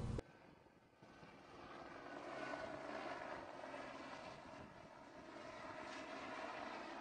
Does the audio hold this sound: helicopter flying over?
yes